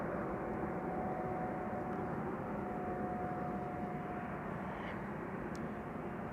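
A Croatia Airlines Airbus A320 arriving from Zagreb at Amsterdam Schiphol gives a constant low, faint engine rumble heard from a distance, with a thin steady whine running across the middle, and no voices.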